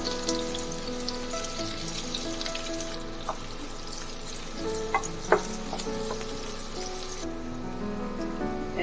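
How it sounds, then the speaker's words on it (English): Onion sizzles steadily in a frying pan, a continuous close crackle with occasional clinks of a utensil stirring, no voices over it. "In the same frying pan, let's start frying the onion."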